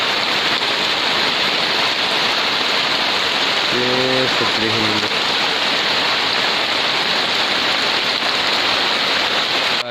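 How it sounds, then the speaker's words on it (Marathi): Heavy rain pours down steadily, a dense continuous roar throughout, with a brief voice-like tone rising above it midway. "जोरदार सुरुवात झाली पावसाला"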